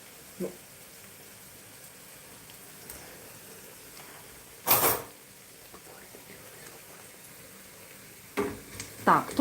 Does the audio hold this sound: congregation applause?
no